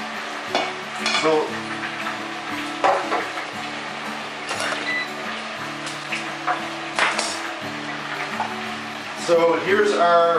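Fries bubble through their first fry in a deep fryer, a steady sizzle with occasional metallic clinks, while a person talks over it.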